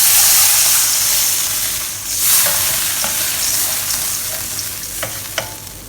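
Water poured into a hot pan of sauce for Chinese-style fish sizzles loudly with a broad hiss, then slowly settles into a softer simmering crackle.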